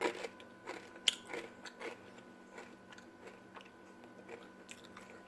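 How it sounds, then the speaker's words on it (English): A crisp baked Parmesan cheese chip is bitten, giving one sharp crunch followed by several softer chewing crunches up close, with no talking. "But that is a crisp chip."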